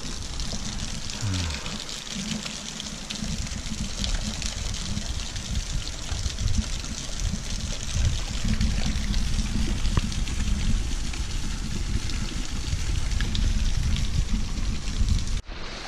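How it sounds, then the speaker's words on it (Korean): A seasonal summer waterfall on the Paradise Park hike pours in a steady, dense rushing roar that stays loud and continuous throughout, with no voices. "이 폭포는 겨울에는 없어졌다. 여름에만 한시적으로 생기는 폭포가 되겠습니다."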